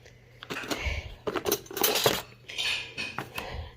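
Metal spoons clink and rattle inside a cutlery case, a close run of bright, irregular clatters and chinks with short pauses between bursts, heard alone in a quiet indoor room.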